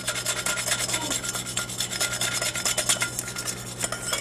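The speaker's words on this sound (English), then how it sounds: "I'm going to scrape that out." Scraping adhesive off a metal surface being prepared for paint, a close, continuous rasping scrape of rapid repeated strokes with a low steady hum underneath.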